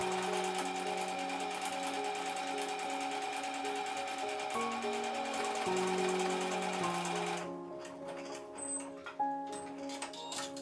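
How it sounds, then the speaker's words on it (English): A sewing machine stitches a buttonhole automatically, running as a steady, fast, rhythmic mechanical whir with ticking needle strokes that continues loud and close, then gives way to quieter, scattered clicks and handling sounds near the end. "The machine will automatically stitch the buttonhole according to the settings you've chosen."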